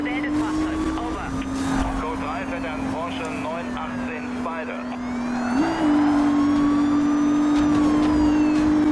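A Porsche 918 Spider speeds along in the racing game Need for Speed Rivals, its engine holding a loud steady drone that rises in pitch partway through, while someone talks over it throughout.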